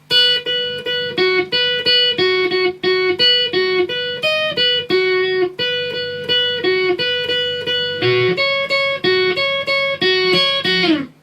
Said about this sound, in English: that's nice and slow, and that's a guitar solo then